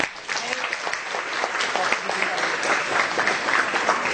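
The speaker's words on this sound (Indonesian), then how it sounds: "Tepuk tangan dulu dong" Students applaud together on a school visit to city hall, a dense steady clatter of clapping from a crowd that swells slightly and carries on throughout, with voices mixed in beneath it.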